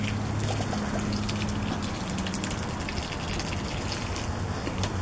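Beer poured from a bottle over bratwursts on a barbecue grill, giving a steady gushing, trickling stream that runs the whole time with no talk.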